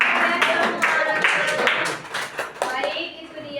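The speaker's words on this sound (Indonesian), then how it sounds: "kasih tepuk tangan." A small group claps in a classroom during a teaching simulation, with brisk bursts of hand claps that thin out and fade toward the end, mixed with a little chatter.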